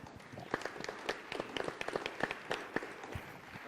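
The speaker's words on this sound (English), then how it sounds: "please join me in giving applause to our fantastic panel" Scattered clapping from a small group applauding a panel at a conference plenary session, uneven and fairly faint, with sharp individual claps standing out over a soft background murmur.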